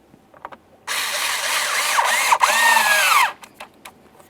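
A power drill or driver runs the mounting bolt of an ignition switch into place on a 2005-2010 Chevrolet Cobalt: one steady whirring burst of about two and a half seconds with a brief dip midway, close and loud, with light clicks before and after.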